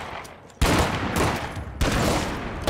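BFG weapon in a video game firing two heavy blasts, each a sudden loud broadband boom followed by a sustained roaring wash of energy, the second blast hitting about a second after the first.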